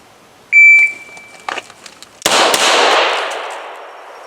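A shrill shot timer beep sounds, and about 1.7 seconds later a sharp, loud pistol crack follows during a concealed carry draw, with a second report and a long ringing decay outdoors.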